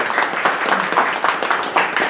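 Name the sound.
clapping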